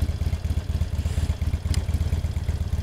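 A Harley-Davidson Iron 883 motorcycle with an Evolution V-twin engine idling close by, its low, loping, uneven throb pulsing steadily throughout with no voices.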